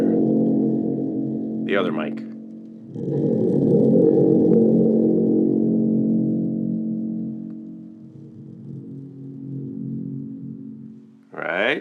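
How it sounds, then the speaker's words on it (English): A deep, boomy rumble swells from a struck handmade thunder tube spring drum and rings out in a long, humming decay, with a brief voice near the start. "It's a thunder tube or thunder drum, but it's handmade."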